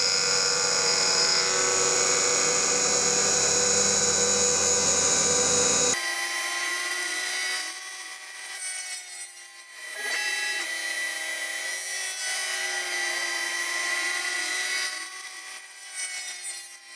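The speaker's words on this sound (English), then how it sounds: "Then I can mill the threads on my CNC machine with a small ball-nosed end mill" A CNC machine mills threads into a ballscrew nut with a small ball-nosed end mill, a loud continuous whining cut that drops abruptly to a quieter, wavering machining tone halfway through, with no voices.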